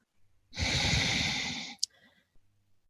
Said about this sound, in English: Just keep holding the breath. And then exhale.